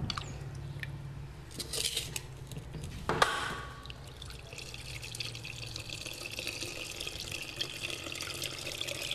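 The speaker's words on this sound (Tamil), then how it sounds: "இப்போ நல்லா கரைச்சி புளி கரைசலை நம்ம விட போகிறோம்" Tamarind is squeezed and dissolved by hand in water for a village-style fish curry, with steady sloshing, trickling and splashing close by and one sharper splash partway through; no one speaks.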